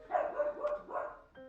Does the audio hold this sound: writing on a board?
no